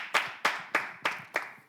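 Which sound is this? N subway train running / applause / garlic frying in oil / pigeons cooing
applause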